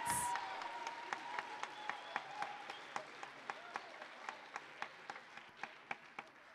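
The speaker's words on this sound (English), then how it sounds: "Can we get one more round of applause for these fantastic students?" Audience applause after students perform at a high school winter choir concert in Dowagiac, a steady wash of clapping with distinct individual claps standing out, gradually thinning and fading toward the end.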